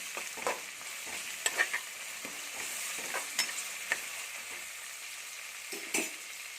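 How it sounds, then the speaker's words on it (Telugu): Mint and coriander stirred into a frying mutton curry, heard as a soft continuous sizzle with scattered light scrapes and clinks of a spoon against the pan and no voices. "ఇప్పుడు పుదీనా కొత్తిమీర వేయండి వేసి ఒకసారి కలపండి"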